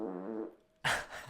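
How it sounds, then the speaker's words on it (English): A person's fart during an indoor podcast recording: a low buzzing, tonal flatulent sound, close and fairly loud, followed after a short pause by a burst of sharp noise. "Oh, I have to fart."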